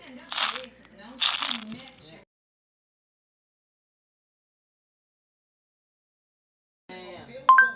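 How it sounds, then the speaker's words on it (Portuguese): A caterpillar's chewing sound, played through Google Assistant, comes as two short crunchy, crinkly bursts close together. Silence follows, then a brief synthetic voice. "A lagarta faz assim."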